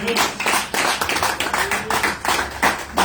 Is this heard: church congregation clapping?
yes